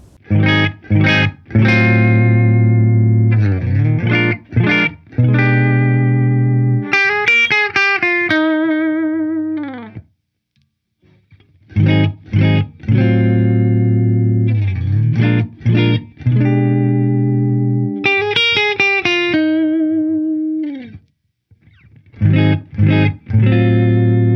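An Epiphone Les Paul Classic electric guitar on a clean setting strums ringing chords and picks short melodic runs through its pickup positions, played twice through with brief silent gaps between passages.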